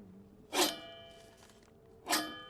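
A McLane reel mower blade slicing through paper during backlapping, two sharp, bright snipping cuts about one and a half seconds apart, close by, with a faint ringing metallic tone lingering after each.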